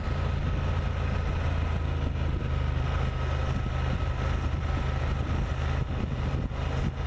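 A Honda Transalp motorcycle engine hums steadily at about 4,000 RPM while riding, a dense continuous low drone with wind rush, close and even throughout.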